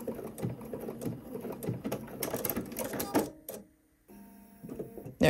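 Sewing machine running in bursts of stitching along a dart in a bodice, fairly close, with brief pauses between runs and a quiet gap near the end.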